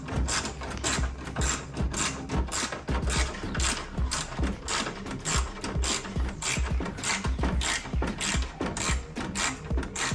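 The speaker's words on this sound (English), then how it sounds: "we need to replace our bolt here in the center. Our 10mm ratchet." A 10mm ratchet clicks steadily in rapid, even pawl strokes while tightening the center plastic headlight bolt on a 2006 Cadillac Escalade, close and loud with no talk.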